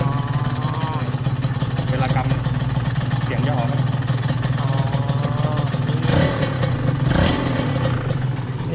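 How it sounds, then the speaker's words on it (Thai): A Honda NSR 150 SP motorcycle with a ProArm swingarm idles close by with a loose, metallic clutch rattle over its steady engine note, while people talk over it. "ถ้าคลัตช์ไม่ดังนี่มันเงียบกิ๊บเลยนะ"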